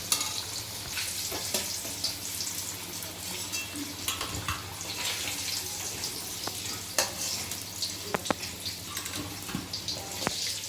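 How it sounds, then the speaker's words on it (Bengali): Potatoes fry in oil until browned, producing a constant bubbling sizzle broken by scattered clicks and scrapes of a spoon against the pan. "এবার আমরা আলুটাকে একটু ব্রাউন কালার করে ভেজে নেব।"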